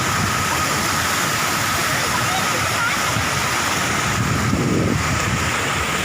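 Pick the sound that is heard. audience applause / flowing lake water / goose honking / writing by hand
flowing lake water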